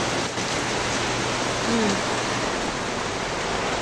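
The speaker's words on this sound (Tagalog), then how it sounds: "Malakas ang ulan." Heavy rain pours down in a dense, even wash of hiss and patter, close and loud throughout with no letup.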